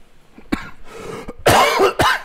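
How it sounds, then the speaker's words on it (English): A man coughs several times in short, harsh bursts, close and loud, ending in a cluster of strong coughs with brief pauses between them. "I'm still dying with this cough."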